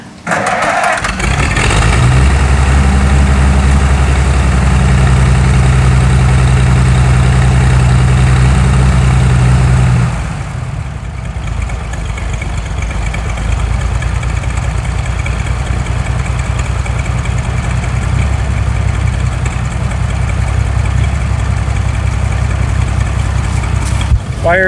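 A Massey Harris 102 tractor engine cranks and fires up, roaring loudly at first, then settles after about ten seconds into a steady, lower idle that chugs on evenly to the end, close up.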